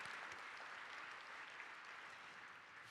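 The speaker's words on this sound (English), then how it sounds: "Yes, applaud for Mark." Gala audience applauding, a continuous even wash of many hands clapping at a distance, quiet and steady with no talk.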